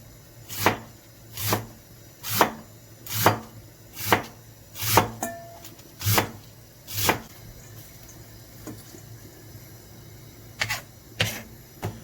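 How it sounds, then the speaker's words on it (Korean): A knife slices cabbage finely on a cutting board in crisp, evenly spaced chops, about ten close, sharp strikes, followed by a pause and a couple of final cuts. "양배추를 최대한 가늘게 가늘게 해서 썰어주면 됩니다"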